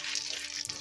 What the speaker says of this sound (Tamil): இப்போ இதை நல்லா ஒரு 2 நிமிஷம் வறுத்துக்கலாம்